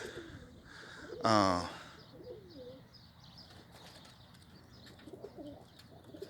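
Young Birmingham Roller pigeons flutter and coo, with one loud burst of wing flapping close by and softer cooing and rustling around it, while someone talks over them.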